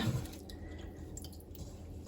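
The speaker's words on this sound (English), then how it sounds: "all you're doing is squeezing that buttermilk out" Soft wet squishing and dripping as buttermilk is squeezed out of homemade butter by hand in a bowl of water, faint and close with a low steady background.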